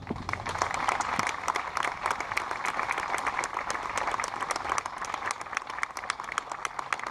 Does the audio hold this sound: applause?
yes